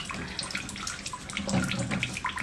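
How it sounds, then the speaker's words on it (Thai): Eggs are washed in water in a sink to prepare traditional salted eggs, with a continuous close splashing and trickling of water and small rubbing sounds, no talking. "เห็นไหม ล้างให้สะอาด"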